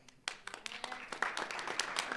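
Scattered, light clapping comes from a small part of the audience at a spring sports banquet; the claps are uneven and close, tapering off without building into full applause.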